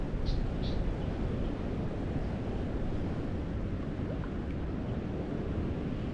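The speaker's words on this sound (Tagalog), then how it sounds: "Lakas ng agos." Strong river current rushing steadily near a crab trap, a continuous broadband wash of flowing water with wind buffeting the microphone and a couple of faint bird chirps early on.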